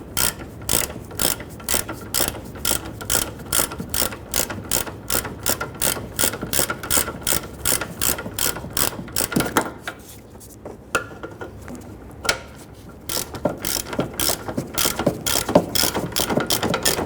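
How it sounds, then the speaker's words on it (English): A ratchet tightens the forward bolt of a rear lower trailing arm on a 2010-2019 Ford Taurus, clicking in steady rapid bursts of strokes, close and loud, with a short pause of irregular clicks midway before the rhythm resumes. "let's go ahead and tighten down the forward bolt here"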